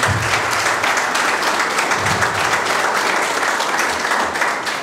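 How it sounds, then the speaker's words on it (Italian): An audience at an Italian election campaign meeting in Sicily claps together in a loud, dense burst of applause that holds steadily for several seconds and fades slightly at the end, with no talk over it. "facciamogli un applauso"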